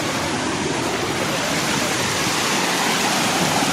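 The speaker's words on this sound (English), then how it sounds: "And look at the waterfall." High Force waterfall heard from a high vantage point, a dense, continuous roar of falling water that stays loud and even throughout.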